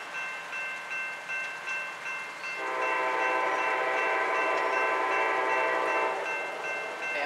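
Amtrak Crescent #20 passenger train passing at Mableton, Georgia, with a steady rumble and rail noise that swells midway into a loud, sustained roar of cars rolling by, then eases slightly near the end.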